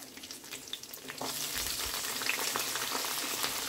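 Peanuts and onions frying in a pan, with a quiet crackle that swells into a denser, louder sizzle partway through, heard close with no talking.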